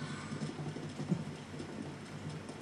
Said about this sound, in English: now it's fucking raining, so I cannot make fire